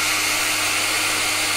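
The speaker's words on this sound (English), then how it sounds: "the hairdryer switches on and the Top Triac is heating up" A hairdryer, switched through a triac, runs with a steady whining blower hiss and a low electrical hum, close and constant throughout, with no voices.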